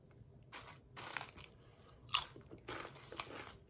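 Walkers cheese and onion crisps crunched close up, a few separate crisp bites and chews with sharp crackly bursts between quiet pauses, no talk.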